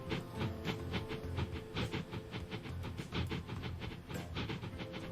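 An express train running on rails in the railway simulation Transport Fever 2, a steady rumbling roll with rapid rhythmic clickety-clack from the wheels and a light hiss, held at an even level throughout.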